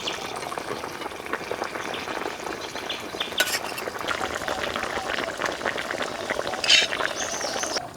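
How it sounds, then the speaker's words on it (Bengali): Rui fish cooks in a pan over a village hearth, giving a busy close bubbling fry with repeated stirring scrapes and utensil clinks throughout, plus a brief faint voice. "রুই মাছ রান্না হচ্ছে"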